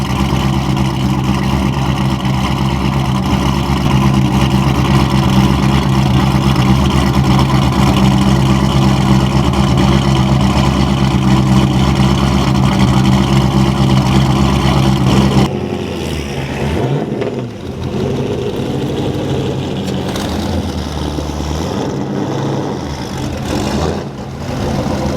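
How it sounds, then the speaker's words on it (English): A deep, steady exhaust rumble from a classic car engine at a car show idles loudly and continuously, then drops and shifts in tone partway through. "The exhaust on this thing sounds awesome."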